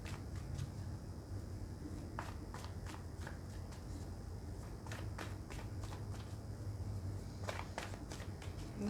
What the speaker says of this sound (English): I'm just going to shuffle and see if any cards flip out